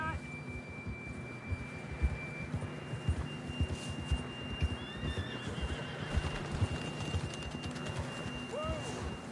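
In the Red Dead Redemption 2 video game, a horse whinnies over a steady run of hoofbeats. A faint voice and some tonal game sounds sit underneath.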